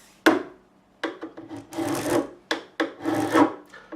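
Metal file crowning guitar frets on a made-in-Korea BC Rich Mockingbird to remove burrs, a series of close rasping strokes in an uneven rhythm, each short scrape separated by brief pauses, with no talking.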